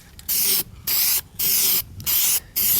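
Hammered Rust-Oleum paint sprayed from an aerosol can onto a car frame: five sharp hissing bursts of roughly half a second each, separated by short pauses, close and loud.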